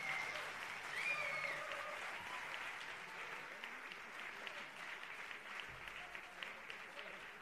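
Audience applause at the Bündner Music Award 2019 ceremony for a band, a steady wash of clapping from a crowd at moderate distance, with a few faint whistles and voices mixed in.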